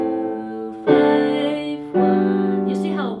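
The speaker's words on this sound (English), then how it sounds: "which is a 4-5-1 that appears more in classical music and also children's songs" Sustained harmonic chords played in a classical-style IV–V–I progression: three block chords struck in sequence, the second and third entering with clear attacks, ringing fully and alone with no talk.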